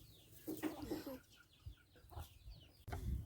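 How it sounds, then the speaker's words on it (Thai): Chickens at a rural outdoor meal cluck faintly in short, scattered bursts, soft and somewhat distant against a quiet background. "ไก่ก็มานำพี่น้อง"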